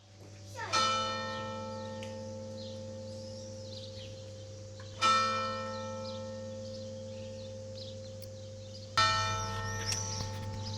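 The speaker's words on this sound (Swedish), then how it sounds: "Kyrkklockan slår lite annorlunda mot vad vi är vana vid." A church bell in southern France strikes three times at morning, evenly spaced about four seconds apart, each ring resonating and slowly fading, with faint birdsong in the background.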